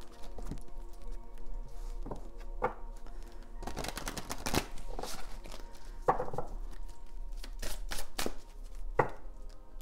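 A deck of tarot cards being shuffled by hand, with bursts of riffling and soft slaps of cards coming in irregular clusters, fairly close and clear with no talk over it.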